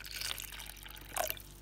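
Water is poured into a tarantula's water dish, a faint, brief trickle and a couple of soft drips heard close up and quiet, with no talk.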